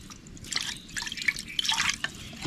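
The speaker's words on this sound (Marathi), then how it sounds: "आता आपल्याला हे पाणी याच्यात कमी जास्त किती पाहिजे आपल्याला तसं ओतायचं" Water is poured into a cooking pot of chicken in a home kitchen, giving a steady splashing, trickling pour with irregular drips, close and moderately loud with no talk.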